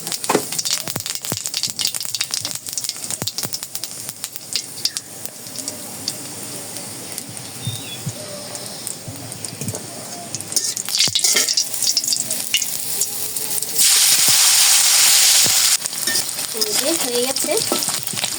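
Cumin seeds crackle and sizzle in hot oil in a home kitchen, a dense, close frying hiss with scattered pops that swells louder toward the end, with faint voice in the background.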